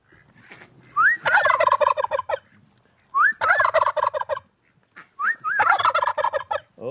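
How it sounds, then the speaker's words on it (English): A tom turkey gobbles loudly outdoors, three rapid rattling gobble bursts spaced a couple of seconds apart, each opening with a short rising call, with no talking and quieter bird noise in the gaps. "Oh, Tom Henry's getting very loud and very vocal."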